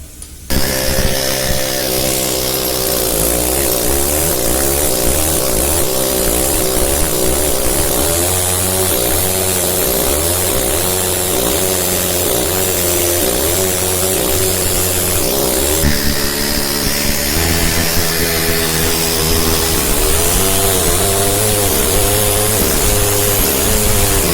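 A pneumatic hammer carves stone with a loud, continuous, rapid buzzing hammering that shifts in pitch as pressure and angle change, running the whole time without speech.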